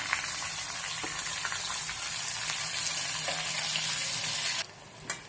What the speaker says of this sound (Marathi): आता त्यामध्ये आपण कांदा टाकून घेऊया आणि सोनेरी कलरवर परतून घेऊया कांदा